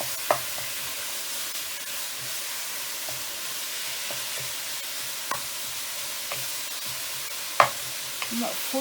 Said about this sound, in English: I'm not fully going to cook this mince, because we'll cook further once I put the others in it